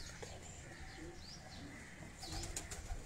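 Kasuri pigeon cooing with wing flaps nearby, soft coos and a brief flutter over a faint, noisy background, a little louder toward the end.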